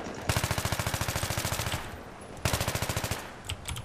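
Full-auto AK assault rifle fire in Battlefield 3, with two long rapid bursts of evenly spaced shots separated by a brief pause, loud and close, ending in a few scattered single shots.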